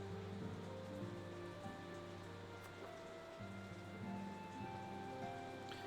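Steady rain patters against a window just outside, a soft continuous hiss heard beneath a melodic video game score.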